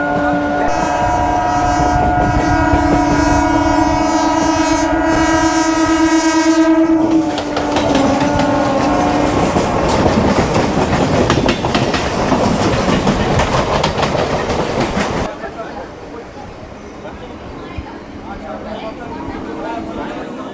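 A Santragachi to Digha local train runs loudly, opening with a long sustained horn blast over the rumble, then steady rolling clatter of the wheels on the rails before the noise drops to a quieter hum.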